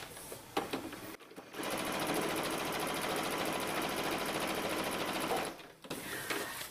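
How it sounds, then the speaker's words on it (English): A sewing machine stitches a denim envelope purse made from blue jeans, running in a fast, even whir for about four seconds between short pauses and brief starts, close and moderately quiet. "I'm sewing really close to the edge of the accent strip."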